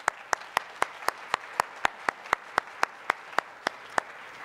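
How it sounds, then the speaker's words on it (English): Audience applause at an admitted students event, with sharp, evenly spaced claps over a soft bed of scattered clapping, fairly quiet and steady from start to end. "Let's give them a round of applause."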